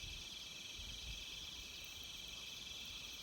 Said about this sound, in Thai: เสียงกบเสียงเครียดที่มันฮ้องก็มีแต่2-3ต้นนี่แหละ